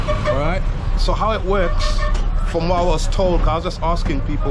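Engine rumble and road noise inside a moving local bus to Mount Lavinia, Sri Lanka, someone talking over it with other voices around him.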